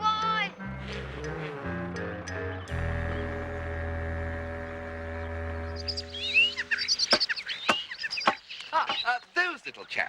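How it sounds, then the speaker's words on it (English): Starlings chatter with quick, scratchy high calls that burst in after a stretch of sustained, tonal music, growing busy and fairly close toward the end. "Starlings, boy. Starlings."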